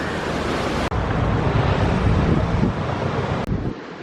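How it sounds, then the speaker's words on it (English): Water rushes out of a canal lock on a narrowboat cruise, a loud continuous churning roar with wind buffeting the microphone throughout and no talking. "Letting the water out."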